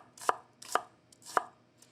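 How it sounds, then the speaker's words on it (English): A knife roughly chops shallots on a cutting board, three crisp, close thuds spaced about half a second apart, with no talk. "We're just chopping this up very roughly."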